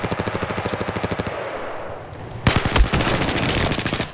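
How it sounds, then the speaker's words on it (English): Bursts of rapid automatic gunfire in Battlefield 4 conquest match, a close, loud rattling stream that pauses briefly, then resumes heavier with mixed shots and impacts. "I'm getting shot by DMR somewhere."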